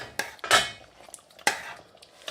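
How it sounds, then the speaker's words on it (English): A metal spoon stirs mutton and swede curry with garam masala in a pot, giving a few sharp scraping clinks against the sides, close and clear with no talking. "So goes 2 teaspoons of garam masala. Give it all a stir."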